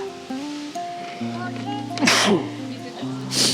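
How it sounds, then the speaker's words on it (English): A sudden allergy-season sneeze bursts out at Orchard Beach State Park over a steady background of tonal music, followed by another brief breathy burst. "I'm gonna sneeze."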